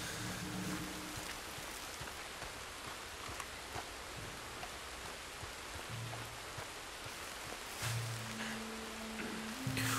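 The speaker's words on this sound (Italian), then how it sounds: "la pioggia che cola lì dal soffitto" Rain dripping from a ceiling in the video game Red Dead Redemption 2 sounds as a faint, steady patter and hiss of drops, with soft low background tones underneath.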